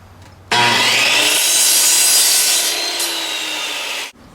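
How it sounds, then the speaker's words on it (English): A carbide-tipped 60-tooth multi-purpose saw blade cuts through wood in a miter box, one loud, steady buzzing cut lasting about three and a half seconds before stopping abruptly. "I would use the miter box and a carbide tipped multi-purpose blade like this 60 tooth job here"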